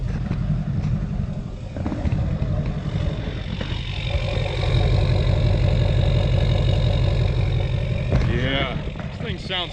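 Duramax diesel pickup truck engine idling steadily at close range, with a low rumbling drone running throughout the recording.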